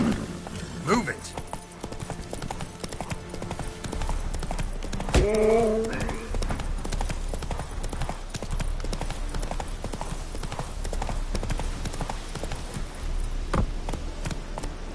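Horse hooves pound rhythmically at a gallop in The Witcher video game, a steady clip-clop running throughout with a brief whinny near the middle, plus game music and voice in the background.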